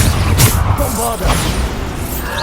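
A Bombarda blasting spell goes off in Hogwarts Legacy, a loud booming burst with crackling debris amid dense game combat noise, with a voice briefly heard through it.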